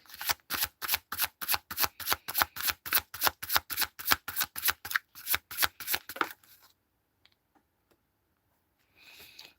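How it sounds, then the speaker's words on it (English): Tarot cards are shuffled in a rapid, rhythmic riffle for about six seconds, close and crisp, followed by near silence and a faint rustle. "Shuffle."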